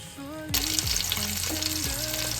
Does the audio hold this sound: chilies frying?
yes